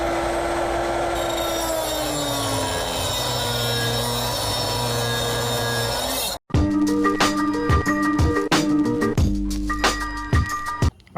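Power tool trimming an RSX Type-S RBC intake manifold: a sustained high whine that drops off sharply, then a choppy burst of grinding and rasping cuts, loud and close.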